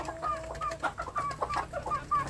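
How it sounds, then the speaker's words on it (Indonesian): Kampung chicken chicks in a rearing cage cheep constantly, a dense overlapping chorus of short, high peeps close by with no voices. "Dan ini anak ayam kampung yang ada di kandang pembesaran ini"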